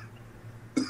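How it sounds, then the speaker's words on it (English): A single short cough comes near the end, preceded by a low hum and quiet room tone. "He may be dying from cough"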